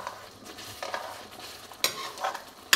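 Fresh cream is stirred into butter paneer masala, giving a few soft scraping strokes and wet squelches in the pan, with a couple of sharper clinks of the spoon against the metal.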